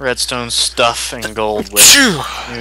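A single sharp sneeze bursts out after a stretch of conversational talk during Minecraft adventure-map gameplay, louder than the surrounding speech.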